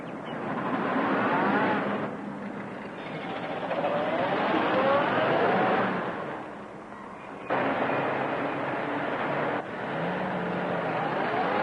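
An old car engine roars as it drives off in pursuit, a steady rough drone that rises and falls with gear changes, loud and close, with an abrupt cut midway and no talk.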